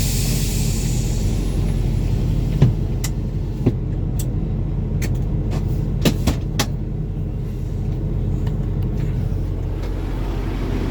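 A semi truck's engine idles at a loading dock, a steady low rumble throughout with a few sharp clicks and clunks scattered over it.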